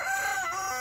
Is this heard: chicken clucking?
yes